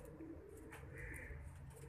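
Pigeons coo softly in the background, a low, faint murmur under steady ambient noise with a brief chirp.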